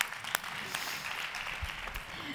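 A school audience claps briefly for the director during a talk on social-media stories. The clapping is short and moderately loud, and a few sharper individual claps stand out.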